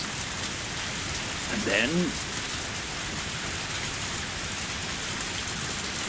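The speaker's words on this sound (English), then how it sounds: "I felt the raindrops hit my face, and gazed up at the sky for a while, forgetting all about my hair getting wet." Steady rain falls in the Higurashi video game, a constant even hiss throughout, with a brief voice speaking in the middle.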